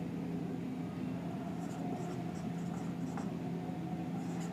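Hand-writing strokes, faint soft scratches and light taps as an entry is written out, sitting under a steady low background hum.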